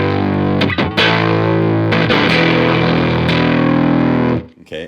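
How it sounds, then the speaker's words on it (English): Electric guitar played through an amplifier turned up to heavy distortion, loud sustained crunchy chords with a few brief breaks before fading at the end. "if we turn this up even more to 8, you're going to hear a lot of distortion"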